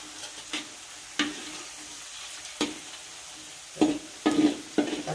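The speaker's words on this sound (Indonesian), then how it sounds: "kita goreng hingga dia mateng ya teman-teman ya" Battered pork frying in oil over low heat in a home kitchen, a soft background sizzle broken by several sharp crackling bursts, fairly quiet and close, with no voices.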